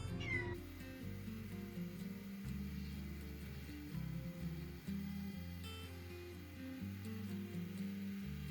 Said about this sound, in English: We got a litter of kittens.